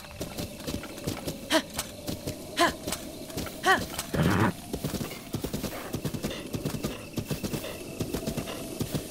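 Continuous galloping hooves of a horse in Zelda: Breath of the Wild drum close and loud, broken by a few neighing cries in the first half.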